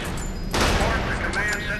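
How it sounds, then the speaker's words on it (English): Pistol shots at a firing range in the Area 51 video game, a short burst of a few cracks after a brief lull, fairly close, with background ambience. "Step on over to the range and fire off a few shots."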